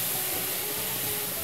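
Grated carrots frying in ghee give a dense, even hiss and sizzle, steady and close throughout with no voices.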